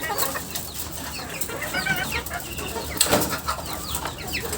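Laying hens on a poultry farm in winter cluck in a busy, overlapping chorus with bursts of wing flapping, including a sharp flutter near the end, all fairly close and continuous.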